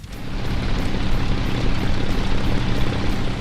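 The piston engine and propeller of a Folgore fighter plane drone in War Thunder, a loud, steady, close roar with a rhythmic throbbing pulse, heard without speech.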